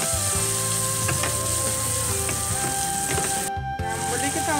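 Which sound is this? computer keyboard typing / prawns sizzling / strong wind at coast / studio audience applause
prawns sizzling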